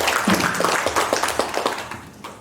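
Clapping rises at a village library launch event, a burst of quick, close hand claps that thins out into a few separate claps and fades within about two seconds.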